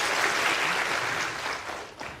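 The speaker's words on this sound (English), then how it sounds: "A round of applause for our volunteer" A lecture audience at the BBC Royal Institution Christmas Lectures applauds a volunteer. A brief, loud burst of dense crowd clapping sustains for about two seconds and then begins to fade.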